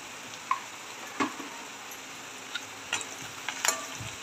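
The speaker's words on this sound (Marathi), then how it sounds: "छान प्रकारे मिक्स करून घेऊ।" Chopped chillies, salt and turmeric being stirred in a cooking pan, a few scattered scrapes and taps of the spoon over a faint background sizzle, no talk.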